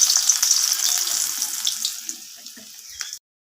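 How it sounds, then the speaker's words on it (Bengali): Potatoes frying in hot mustard oil in a wok, a steady close sizzle and hiss that holds loud and then eases off gradually before it cuts off. No one talks. "এখন আমি এর মধ্যে আলুগুলো ভেজে নেব।"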